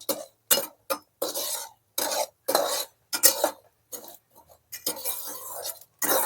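Cashews, almonds and pistachios roast in ghee on a low flame while being stirred. Close, separate bursts of scraping and clinking spoon-on-pan strokes come in an uneven rhythm with short quiet gaps, and no one speaks.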